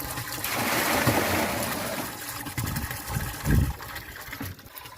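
Water gushes and splashes steadily into a blue barrel for compost tea, a close, loud pour with a few sloshing surges and no talking.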